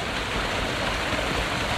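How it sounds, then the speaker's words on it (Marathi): Water from Bhivpuri waterfall near Mumbai pours down in a dense, steady rushing roar that stays even and unbroken throughout. "हा जो पाण्याचा आवाज आहे ह्या पाण्याच्या आवाजामध्ये एवढी शांतता आहे एवढं सुकून आहे ना"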